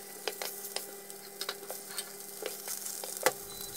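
Salmon frying in a little butter in a pan on a stovetop at medium heat, a quiet steady sizzle dotted with small crackles and pops, with one sharper tap near the end.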